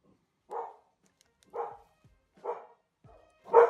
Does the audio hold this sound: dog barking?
yes